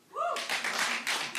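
Audience clapping in a comedy club starts right after a brief bit of talk, a dense burst of applause that swells in several close, loud waves.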